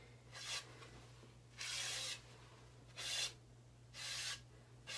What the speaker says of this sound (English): I'm going to brush really lightly.